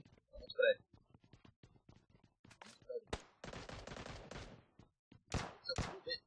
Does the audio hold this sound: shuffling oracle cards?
no